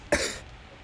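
A single short, sharp cough close to the microphone, loud and isolated, followed by quiet room tone.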